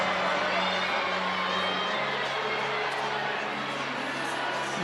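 Indoor soccer arena crowd during a San Diego Sockers match against Monterrey Flash, a dense, steady roar of many voices reacting as a Monterrey player stays down on the field, continuous and loud throughout.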